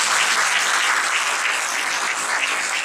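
Loud, dense applause from a large crowd at a religious discourse, continuous and even for about three seconds.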